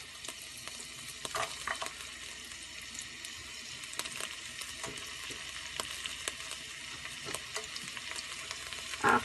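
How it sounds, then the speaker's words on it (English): Onions fry in a pan for paella, a faint background sizzle broken by repeated scraping and clinking strokes of a utensil stirring, ending in a louder scrape. "And I'm going to cook the onions until they're not brown, but until they're just transparent,"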